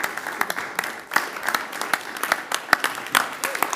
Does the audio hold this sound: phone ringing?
no